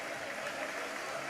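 Steady, dense applause from a high school gym crowd as the Eagles varsity basketball team takes the floor for warm-ups, a continuous broadband clapping wash with no breaks.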